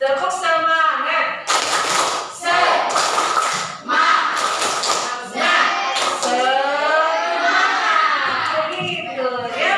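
Schoolchildren repeat a rhythmic spirit clap, several loud clustered bursts of clapping and thumping spaced through the clip, mixed with children chanting and talking between and over the claps.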